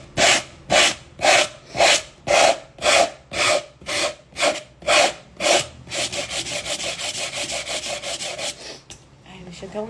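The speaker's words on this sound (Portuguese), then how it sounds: "e agora aqui lixar" Sandpaper rubbing across wood for a sewing box project, a series of about a dozen loud, regular back-and-forth strokes, then quicker, shorter scrubbing strokes close to the listener.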